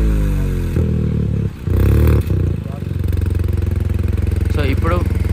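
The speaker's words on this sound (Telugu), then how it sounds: "సో సౌండ్ ఒకసారి రేవ్ ఇవ్వను." A Hyundai i20 N Line with a Stage 1 tune and its exhaust valve open blips its engine once, a deep throaty rev that drops back to a steady, rumbling idle close by.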